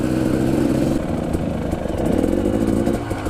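An enduro motorcycle's engine revs hard and loud up close as the rider climbs a gully at an enduro school in Wales. The rough, throaty drone surges and dips, with clattering mechanical noise and no talking.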